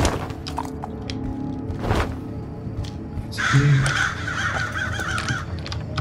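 Crows cawing in the stealth video game Thief, harsh repeated caws clustered near the middle against a low ambient game backdrop with a few soft thuds, fairly close, no talking.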